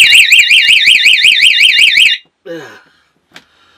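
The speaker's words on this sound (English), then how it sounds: "the big alarm is going to go off" A very loud, rapidly warbling electronic alarm from a Watch Commander device blares for about two seconds, then cuts off, followed by a brief chirping tone and a faint click.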